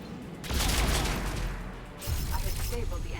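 Heavy weapon fire in Mass Effect 3 Legendary Edition, a loud sustained burst of booming blasts that dips briefly and then resumes, with speech-like sound mixed in.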